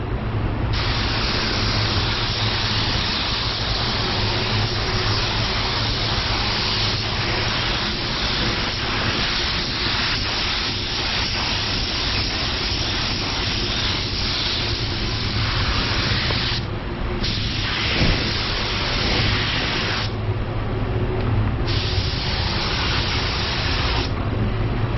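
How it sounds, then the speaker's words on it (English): Spray gun laying sealer onto a car at 26 pressure, a loud continuous hiss that runs nearly unbroken, with a few short pauses where the trigger is released. "So we're spraying at 26. This is sealer, so I can put on a little bit heavier."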